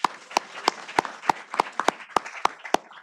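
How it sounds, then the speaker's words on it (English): A single person claps steadily at a meeting to applaud teachers, about a dozen evenly spaced sharp claps, close and alone. "So let's give our teachers a big round of applause."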